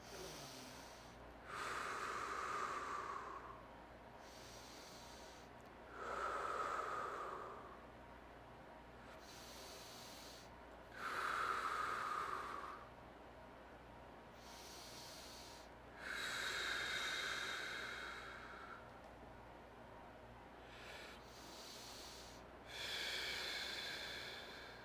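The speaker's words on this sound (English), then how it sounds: "A couple deep breaths." Five slow, deep breaths taken during a stretching exercise, each a long airy inhale-exhale spaced several seconds apart, close and fairly quiet with no talking.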